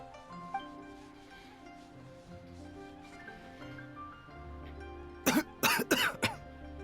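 In the game Genshin Impact, a character coughs harshly, three or four coughs close together, breaking through quiet background music near the end.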